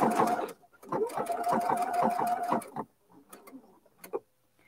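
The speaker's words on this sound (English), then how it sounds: "drop my needle down slowly and then start to sew across here" A sewing machine fitted with a circular attachment stitches at close range in a steady rapid whir, stops, then a few short clicks and mechanical taps follow.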